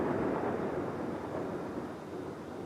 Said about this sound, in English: that's a big storm coming